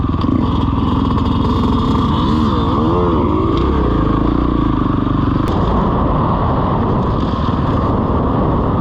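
Motorcycle engine idling near train tracks, a loud, close, steady low rumble with shifting tone, some clatter and a sharp tick partway through.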